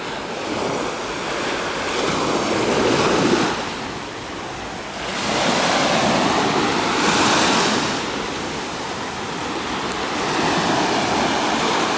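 Sea waves roll in and wash up on the shore at Alanya in slow repeated surges, a steady close roar with some wind noise over the microphone.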